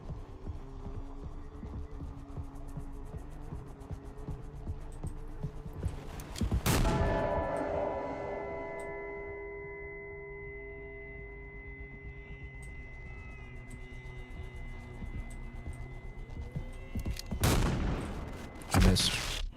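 Two sharp gunshots ring out about ten seconds apart in the spooky game Mouthwashing, loud and sudden against a quiet backdrop of steady hums and tones.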